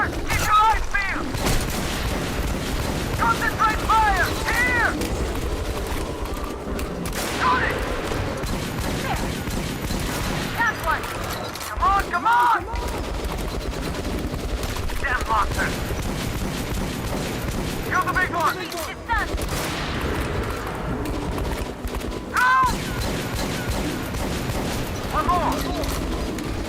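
Sustained gunfire in the video game Metro Last Light, with bursts of shots and booming blasts running throughout under frequent excited in-game shouting and voices.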